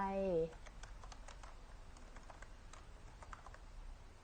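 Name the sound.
typing on a computer keyboard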